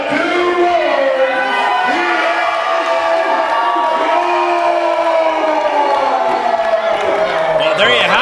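Wrestling crowd at an ETWA independent show in Newport, Vermont, cheering and whooping steadily for a wrestler, a dense continuous roar of many voices throughout.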